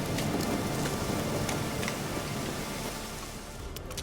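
Steady rain in the video game The Witcher 3: Wild Hunt falls throughout, a dense hiss of drops with a few brighter patters, loud and continuous with no voices.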